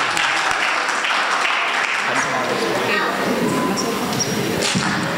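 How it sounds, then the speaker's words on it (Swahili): A church congregation at a gospel album launch in Spokane breaks into sustained applause, dense clapping filling the hall at moderate loudness, with voices mixed in beneath it. "Pigeni kanisa hiyo makofi mazuri."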